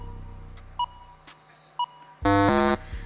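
A few scattered high tones give way to a loud, harsh quiz-show buzzer blast lasting about half a second, sharp and close, on a TV riddle quiz.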